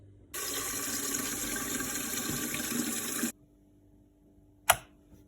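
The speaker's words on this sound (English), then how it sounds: "and then of course we need to add some water" Water runs from a tap into a vessel for making coffee in a percolator, a steady hissing stream for about three seconds that then cuts off, followed by a single sharp click.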